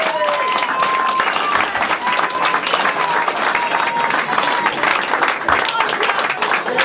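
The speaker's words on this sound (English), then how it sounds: "I want another round of applause for that" A bar crowd applauds a rugby league team after a Keighley Cougars versus Rochdale Hornets match, with steady, dense clapping throughout, cheers and voices mixed in.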